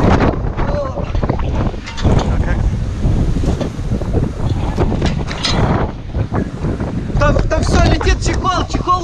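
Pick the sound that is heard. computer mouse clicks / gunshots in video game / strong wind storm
strong wind storm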